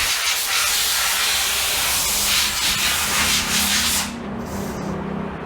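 Aerosol spray hisses in long, loud bursts close by during periodic maintenance on an Arora Max-T scooter, then cuts out, leaving a quieter background.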